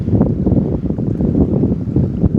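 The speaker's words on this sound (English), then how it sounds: "it is a little bit breezy from the north" Steady breezy north wind buffeting the microphone on a shoreline during a fishing trip at Arroyo City, a continuous loud low rumble with gusty fluctuations and no talking.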